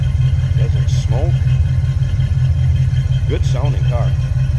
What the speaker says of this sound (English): see how that engine runs